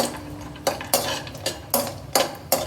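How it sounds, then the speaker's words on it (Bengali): Cashews fried in ghee in a kadai, stirred with a spoon that scrapes and knocks against the pan in a regular series of about six close strokes over a soft background sizzle. "দিয়ে দেব 1 চামচ ঘি। ঘিটা ছড়িয়ে নেব। এটা কাজু ভেজে নেব।"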